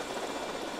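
A remote-control helicopter in GTA Vice City gives off a steady, dense buzzing whir, heard alone for a brief moment at moderate level.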